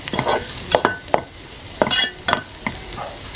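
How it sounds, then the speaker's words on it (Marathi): Rovane wild mushrooms tipped into a pan of sweet ground masala on a wood-fired chulha and stirred, giving a few close scraping and clattering strokes over a soft sizzle. "रवणं घालूया"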